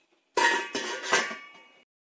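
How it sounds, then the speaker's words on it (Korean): A metal lid clatters down onto a cooking pot of marsh snails set to simmer over low heat, three quick clinking knocks with ringing metallic tails, close and alone. "뚜껑 덮을게"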